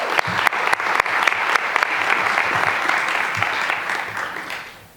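Audience applause at a 2020 annual community meeting, dense and steady clapping from a gathered crowd that holds for several seconds before fading out at the end.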